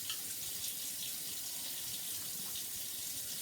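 Tap water runs steadily into a sink, an even close hiss with no talk.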